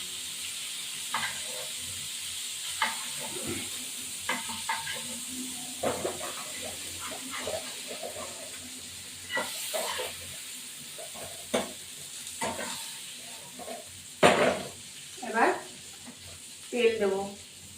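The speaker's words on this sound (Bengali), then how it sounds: "চিংড়ি মাছ বেশি ভাজতে নিই" Prawns frying in a pan for a prawn malai curry, a soft continuous sizzle with occasional stirring scrapes, while a person talks intermittently over it.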